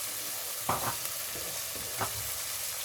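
Ginger garlic paste sizzling in hot oil in a pan for chicken biryani, a steady loud fry hiss with a few stirring scrapes and clinks.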